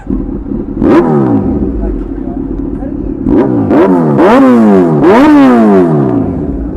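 A superbike engine in Indapur revs hard several times, each throttle blip climbing and falling in pitch, loud and close over a steady idle, with the bursts coming faster toward the end.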